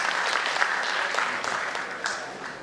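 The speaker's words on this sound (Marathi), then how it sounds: "त्याचबरोबर जॉली मोरे दादा यांच्यासाठी जोरदार टाळ्या।" Loud applause at a Jayanti Utsav committee function for a guest being welcomed, a crowd clapping in a thick, continuous patter with a few sharper bursts standing out.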